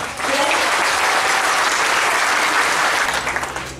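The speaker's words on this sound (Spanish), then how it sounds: "Un aplauso para nuestra alcaldesa." Crowd applause for a mayor at a local civic event, a loud, dense burst of clapping that swells quickly, holds steady and begins tapering off at the close.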